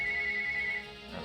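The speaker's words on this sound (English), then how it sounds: "Oh, the phone's ringing." A telephone rings with a steady, bright electronic tone, close and fairly loud, sounding alone for about a second before fading into quieter background noise.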